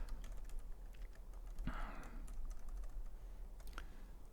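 Soft, quick keystrokes on a computer keyboard as a street address is typed into a Google Sheets expense report, faint and close in a quiet room.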